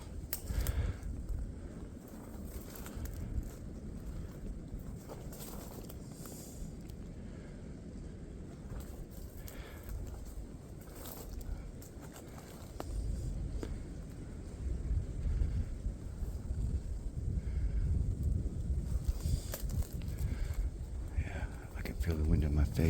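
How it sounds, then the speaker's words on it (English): Gusty wind blowing across an open hunting area of ridges dropping toward a swamp, a steady low rumble buffeting the microphone and rising stronger toward the end. "Feel the wind in my face now."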